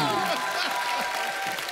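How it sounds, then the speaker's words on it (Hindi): A studio audience on a comedy talk show claps loudly and steadily for a brief burst, with a voice faintly present underneath. "सो जोरदार ताली"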